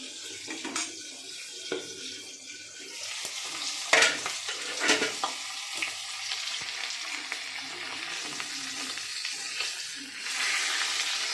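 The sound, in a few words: fish heads frying in oil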